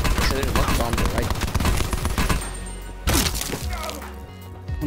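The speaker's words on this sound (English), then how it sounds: "Someone just shot at me." Gunfire in the Alcatraz Blackout game mode: dense bursts of shots and sharp cracks, loud and close at the start, then a fresh volley near the middle and more scattered shots after, with a voice speaking among them.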